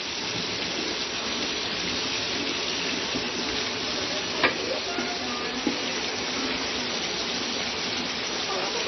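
Tomato masala with whole tomatoes is stirred as it fries in oil in a pan, giving a steady, soft, hissing sizzle throughout with a couple of faint scraping knocks.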